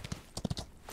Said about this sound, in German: Ach cool, man kann ein Pferd sogar springen.